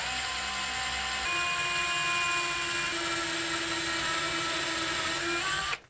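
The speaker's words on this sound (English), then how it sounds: "I'm gonna use a little smaller bit than the screw to make the pilot hole." A power drill with a bit slightly smaller than the screw bores a pilot hole into a wall for a mirror mounting bracket, a steady high whining drone running continuously for several seconds before cutting off abruptly at the end.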